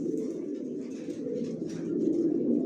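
Racing pigeons of the Johnson line coo in a loft, a steady low throaty burble from several birds close by, with faint higher chirps over it and no other sound.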